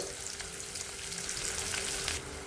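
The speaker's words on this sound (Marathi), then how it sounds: "लगेचच कांदा घालायचा, यामध्ये बारीक चिरलेला एक कांदा आणि हिंग" Finely chopped onion, curry leaves and asafoetida frying in a pan for an everyday brinjal dish make a soft, even sizzle that stays constant throughout, fairly quiet and with no voices.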